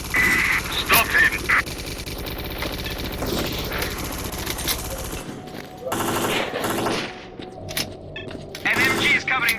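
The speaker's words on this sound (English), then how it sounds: "An MG is covering the ground floor." Machine gun fire in S.T.A.L.K.E.R., an MG covering a building's ground floor, with bursts of rapid gunfire rattling over a few seconds, then quieter stretches and fresh shots, amid battle noise and shouted voices.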